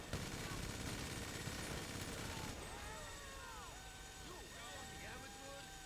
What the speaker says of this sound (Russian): Вот или с крыши, или откуда они стреляют.